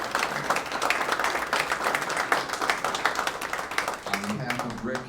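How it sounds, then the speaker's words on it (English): An audience at a CFA presentation gives presenter Chris Zaccarelli a round of applause: dense, steady clapping from a room full of people, with a voice speaking over it toward the end. "Let's give Chris a round of applause."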